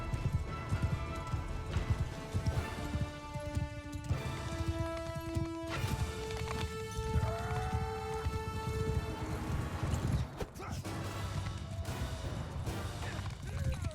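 A horse gallops in Mount & Blade II: Bannerlord, with continuous rhythmic hoofbeats under sustained tonal game sounds and brief clashes. The hoofbeats stay steady and fairly close throughout.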